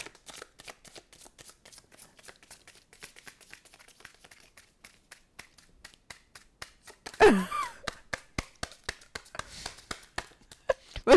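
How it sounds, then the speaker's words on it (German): Playing cards being shuffled repeatedly in a rapid riffling rhythm, close and fairly loud, with one sharper burst of riffling and fanning partway through and crisp snaps of the deck at the end. "Du musst auch die Karten mischen."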